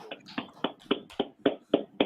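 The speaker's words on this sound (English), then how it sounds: "Clap it up." Clapping at a brotherhood class: about eight sharp, evenly spaced hand claps in a steady rhythm, close and clear.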